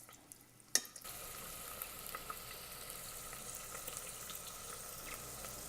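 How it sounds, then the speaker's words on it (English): Paneer fries in melted butter inside an Instant Pot, giving a steady, soft sizzle that runs on after a brief clatter at the start, with no voices. "Now we are going to fry the paneer in melted butter."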